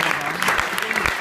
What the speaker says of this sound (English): Please hold your applause to the end.